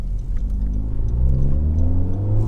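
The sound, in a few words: Honda Civic Type R with Remus exhaust revving, full race mode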